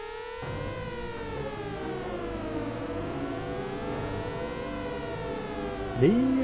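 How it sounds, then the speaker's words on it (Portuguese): A wailing siren in the video game Front Mission 3 rises and falls continuously in the background, steady and moderately loud, with a brief sharper tone near the end. "Ó a sirene, ó a sirene."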